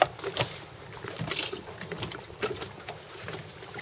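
A rigid inflatable boat running on open water off Fort Lauderdale during a sailboat sail test, with steady engine and hull noise and wind rushing across the microphone, mixed with intermittent splashes and slaps from the water.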